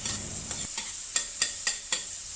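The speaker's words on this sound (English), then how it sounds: "Add the ginger garlic paste and saute over low heat until fragrant" Ginger garlic paste sautéing in mustard oil over low heat, a close continuous sizzle punctuated by four or five sharp spoon scrapes against the pan.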